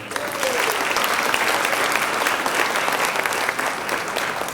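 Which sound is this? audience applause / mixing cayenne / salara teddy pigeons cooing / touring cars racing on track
audience applause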